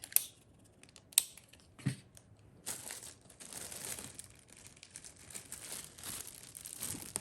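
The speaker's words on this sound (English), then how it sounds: "I like to just tape the corner and then pull to tighten it" Gift wrapping paper crinkles and rustles up close as tape is pulled and pressed at a corner and the paper is drawn tight, with a few sharp snaps of tape and steady crackling.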